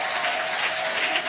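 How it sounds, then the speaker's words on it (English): Conference audience at an annual awards ceremony giving a round of applause, a brief burst of steady, fairly loud clapping with no talk over it. "Give her a round of applause too"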